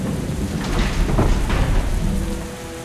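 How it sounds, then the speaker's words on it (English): Steady heavy rainfall with low rumbling thunder in the adventure game The Silver Lining, a dense wash of rain close by with deep rolling swells. "Feels like it's raining a lot louder than it was,"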